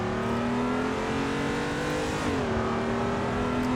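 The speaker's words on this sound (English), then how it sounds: "Get a nice little drift going on there, so we're slowly getting the hang of it." Car engine in the Assetto Corsa racing game on PS4, drifting along a junction-like track, a steady loud droning engine note with a brief pitch shift midway, no talk.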